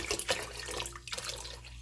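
Water splashes and pours into a pot while making homemade ginger ale with real ginger, a close, uneven gushing stream with small splashes throughout and no talking.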